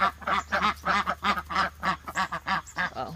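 Guinea fowl call repeatedly in a rapid, harsh, chattering series of cackles, close and fairly loud, continuous across the whole stretch.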